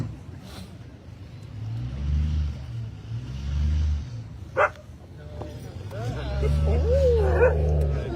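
A protective dog barks and yips briefly at a nighttime stop in Good Hope, Georgia, with passing car traffic and people talking throughout.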